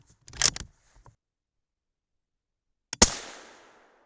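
Two sharp rifle shots from a 6.5 Creedmoor suffering hang fire problems, a cracking report near the start with a small echo, then after a pause a second loud shot with a long fading tail, no talk.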